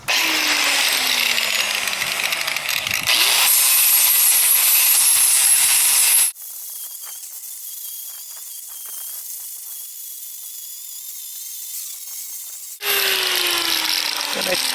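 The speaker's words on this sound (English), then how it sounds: "angle grinder with a flap wheel attachment." An angle grinder fitted with a worn flap wheel sands a wooden pool deck post to flatten its notch. The loud, close whine runs for about six seconds, drops to a quieter hiss, then surges back near the end.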